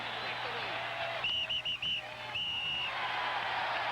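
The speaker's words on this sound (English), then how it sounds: "Get that whistle out of here, would you, man?" A shrill whistle is blown in a stadium crowd at Veterans Stadium, four quick toots then one long blast, over a constant crowd murmur.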